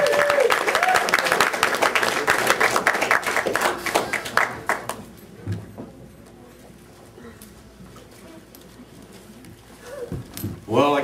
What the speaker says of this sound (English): Put your hands together, make you feel well on stage.